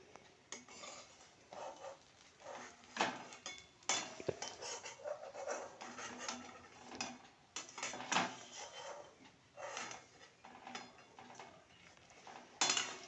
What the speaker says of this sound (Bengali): এখন আমি নামিয়ে নিচ্ছি।